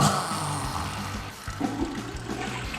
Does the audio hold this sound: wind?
no